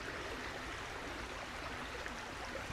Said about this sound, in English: let's have a moment and enjoy the sound of this beautiful brook